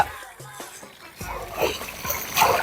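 Water splashes and sloshes in short bursts as someone bathes, growing louder toward the end, with faint voices underneath.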